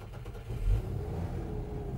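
Volvo Snowcat engine cranks and fires, catching with a short throttle blip and a brief rise in loudness, then settling into a steady mid-pitched idle, heard close up with no talking.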